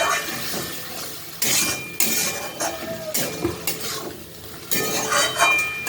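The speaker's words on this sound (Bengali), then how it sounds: "আবারও আমি এই জলটাকে কষিয়ে নেবো, যাতে আলুর ভেতরে পুরোপুরি মশলাটা ঢুকে যায়।" Potatoes with spices stir-fried in a pan with a splash of added water, loud sizzling broken by bursts of spoon scraping and clinking against the pan, in close repeated strokes.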